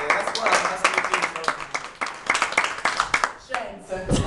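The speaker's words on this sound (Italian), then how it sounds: "salutiamo anche lei con un grosso applauso" Scattered, uneven clapping from a small audience at a high school graduation speech greeting a teacher, individual sharp hand claps close and irregular rather than a full roar.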